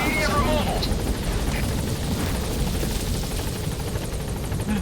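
A helicopter in the video game Metal Gear Solid V arrives at a landing zone, its steady rotor thrum filling the scene continuously while a voice speaks over it.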